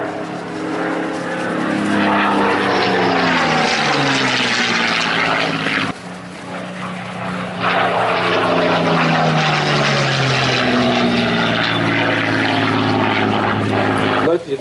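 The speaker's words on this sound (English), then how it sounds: "one Spitfire lands and yet another one, kind of, lines up to take off." A Spitfire propeller fighter at the Warbirds over Wanaka airshow in New Zealand, one landing as another lines up to take off; a loud, steady piston-engine drone fills the whole clip, briefly dipping midway, with a commentator talking over it.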